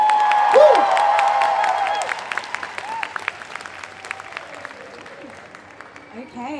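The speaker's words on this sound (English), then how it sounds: "Big round of applause!" Applause and cheers from the crowd at a cosplay contest winners' announcement at a comic convention, loud at first and then thinning into scattered claps as a voice and whoops ring out over it.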